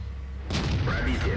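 A single tank cannon shot booms in a tank video game, played as a T-54 first prototype medium tank, with a sharp onset after near-silence and a rumbling, rolling tail.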